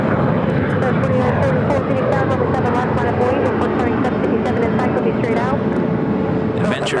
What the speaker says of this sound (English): Our next takeoff is that United 757-200 to the flight heading to Newark.